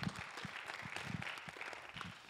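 Congregation applauding in a church, a short burst of dense clapping at moderate distance with a faint voice underneath.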